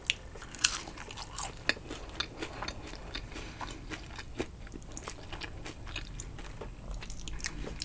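Crunchy fried-chicken-shop fries being bitten and chewed close up, with repeated sharp crunches and crackly bites over about eight seconds and no talking.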